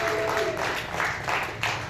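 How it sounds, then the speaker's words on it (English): Studio audience applauding and clapping at a late-night talk show, a dense, steady wash of hands that fills the whole short stretch at a fairly loud level. "All of you that clapped, thank you so much"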